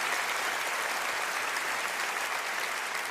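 An audience at a French stand-up comedy show applauds in a dense, steady wash of clapping that holds evenly throughout without pause.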